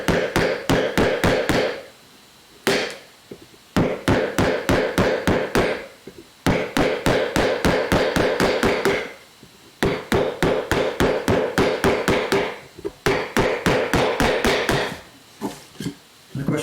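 A mallet strikes a wood carving gouge again and again as it cuts into wood bit by bit, sharp close taps in quick runs of about ten blows, with short pauses between the runs.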